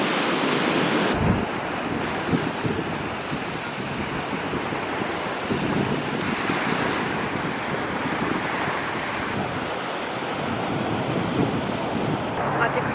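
Sea waves wash onto a beach in Busan in a continuous, close surf roar mixed with wind buffeting the microphone, the rush swelling and easing a few times without any talk.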